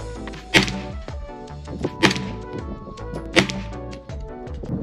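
Three sharp 9mm pistol-caliber carbine shots from 135-grain Summit City handloads strike a steel target, each a loud crack with a ringing metallic tail, spaced about 1.5 seconds apart at close range.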